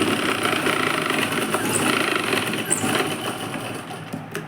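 A sewing machine stitching a blouse sleeve gives a continuous close whirring motor hum, steady for several seconds before easing off slightly near the end.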